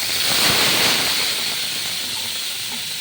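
Radish greens dropped into hot mustard-seed-tempered oil set off a loud, broad hiss of sizzling and steam that surges at first, then settles into a steady crackling fry.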